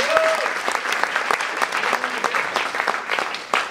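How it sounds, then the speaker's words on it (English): A small crowd gives a short burst of dense, crackling applause at moderate loudness, with a voice briefly heard over it. "Everyone, a little round of applause."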